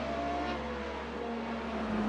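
Jaguar XJR12 V12 race car at a historic racing event at Montjuïc, a steady sustained engine drone held at a constant pitch, loud and close with no talking.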